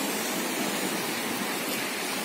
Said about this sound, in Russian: И рядом море.